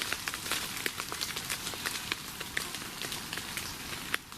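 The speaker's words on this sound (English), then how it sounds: "Rain's coming down again." Rain falling outdoors at night: a dense, steady hiss of drops with scattered sharper patters on nearby surfaces, continuous and fairly faint, with no talking.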